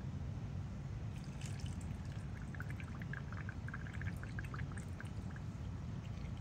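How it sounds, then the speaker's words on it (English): Boiling water poured into jars of cabbage for home canning: a steady, even stream of liquid filling glass jars, close and continuous with faint trickling. "we'll pour our water in."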